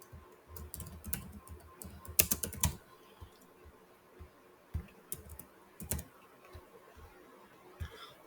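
Typing a checklist name on a computer keyboard in Zoho People, with bursts of close, light key clicks separated by pauses over a quiet background hum.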